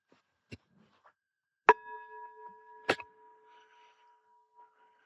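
A meditation bell is struck in a quiet room, giving a clear ringing tone with a long sustained hum, then struck again about a second later, with faint taps around it.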